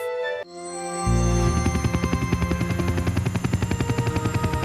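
A cartoon helicopter in a kids' 3D animation starts up with a rising whine, then settles into a loud, rapid rotor chop that pulses steadily throughout.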